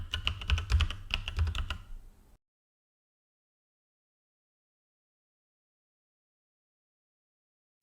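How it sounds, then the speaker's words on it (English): Keystrokes on a computer keyboard as a command is typed into a terminal, a quick run of close, crisp clicks for about two seconds, then silence. "So we type start and then the package name."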